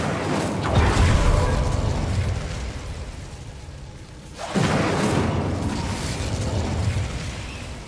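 An Incendio fire spell cast in Hogwarts Legacy bursts with a deep, rumbling whoosh, then a second loud fiery blast follows after a brief lull.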